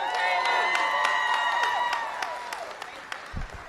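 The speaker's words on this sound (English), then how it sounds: "Let's give Caleb a big round of applause" Audience at a school grand opening applauding and cheering in a dense burst of claps and scattered whoops, fading toward the end.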